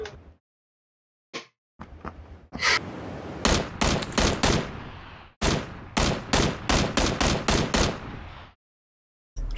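Gunfire in PlayerUnknown's Battlegrounds: a few isolated shots, then rapid bursts of loud, sharp reports in quick rhythmic volleys, with brief pauses between strings of shots and a final lone shot.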